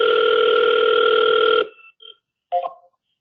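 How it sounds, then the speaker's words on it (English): An outgoing phone call placed through Zendesk Talk produces a steady, loud dial tone for about a second and a half, which then cuts off and is followed by a few short faint blips and a brief click-like burst. "So I'm going to go ahead and actually place that phone call."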